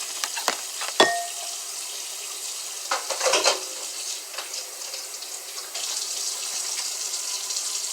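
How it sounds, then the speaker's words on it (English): Water runs from a kitchen tap as vegetables are rinsed for a crockpot meal, a steady close splashing hiss with a few clattering knocks early on and a brief louder burst of rushing water near the end, no talk. "About a minute to rinse the vegetables."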